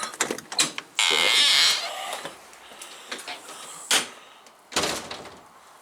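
A door opens and closes outdoors with a sustained loud creak or rumble about a second long, followed by softer scrapes and a couple of sharp knocks or latch clunks, with faint ambient noise between.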